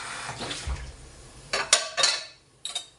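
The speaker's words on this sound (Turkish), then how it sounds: "Şimdi iyice bulaşık yıkanacak." Dishes and glasses are washed at a kitchen sink with running water, marked by a few clinks and clatters of crockery close by, with no talking.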